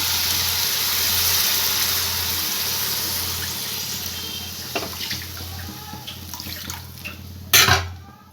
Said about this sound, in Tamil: இந்த ஸ்டேஜில் கொஞ்சம் தண்ணி ஊற்றி கொதிக்க வச்சுக்கலாம்